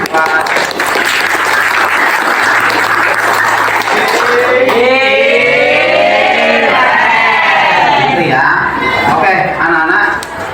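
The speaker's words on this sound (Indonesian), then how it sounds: "Kita beri tepuk tangan" A school class in Indonesia breaks into loud, dense applause that runs the whole stretch, with voices and some cheering mixed in over the clapping.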